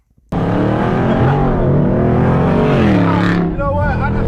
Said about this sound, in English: right here is where I noticed that the car hesitated